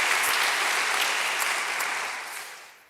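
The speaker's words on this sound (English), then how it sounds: "That applause means I can really go for it now, right?" Applause from a live audience at an event on religion and apostasy, a dense, even wash of many hands clapping that holds strong and then slowly fades toward the end.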